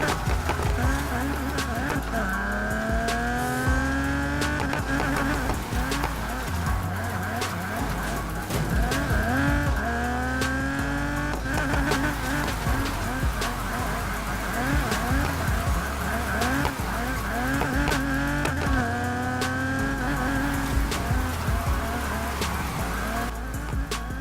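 Cars drift in Need For Speed Heat, engines revving up and down in rising, falling sweeps with tyre squeal, continuous and close, with a voice talking over it.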